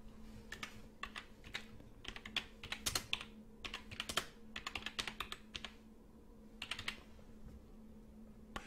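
Quick bursts of typing on a computer keyboard as a name is entered into accounting software, close and fairly quiet, with clusters of key clicks separated by short pauses and a faint steady hum beneath.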